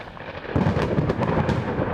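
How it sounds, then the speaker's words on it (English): Thunder crashes and rolls overhead in a storm, a sudden loud break followed by a sustained rumbling roar with crackling peaks, used as a sound effect in a dramatic gothic horror reading. "as the thunder broke overhead"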